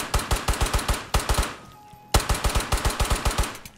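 Rapid Glock pistol fire with a big magazine in Ghosts of Tabor VR, two fast even strings of loud close shots separated by a short pause, no talk.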